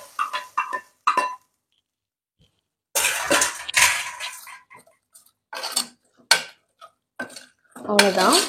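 A metal spoon stirs a tempering of spices into cabbage kootu in a cooking pot. Sharp clinks and scrapes come in short bursts, split by quiet pauses, with a brief cluster of faster taps near the end.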